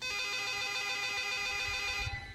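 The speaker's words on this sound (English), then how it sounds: "when the phone rings here, it's normally somebody I really want to talk to" A telephone rings in a continuous electronic trill, loud and steady throughout with no talk over it.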